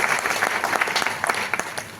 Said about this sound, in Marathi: आर्टिस्ट लीडर दीपक सरांसाठी एकदा जोरदार टाळ्या झाले पाहिजे